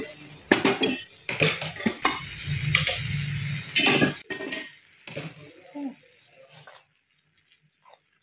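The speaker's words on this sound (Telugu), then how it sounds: "బాగా బెల్లము కొబ్బరి పట్టేటట్టు కలిపేస్తున్నాను నేను" Jaggery and coconut stirred together in a metal pan for a sweet barfi, a spoon scraping and clinking against the pan in bursts that fade out toward the end.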